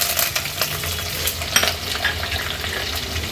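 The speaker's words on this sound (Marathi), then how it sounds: "तेल गरम झालंय आता ह्याला फोडणीला आपण लसूण आणि मिरची घालणार आहोत" Garlic and chillies sizzle in four tablespoons of hot oil for a Koli-style ghol fish head curry, a close, crackling fry with scattered pops and the scrape of stirring running throughout.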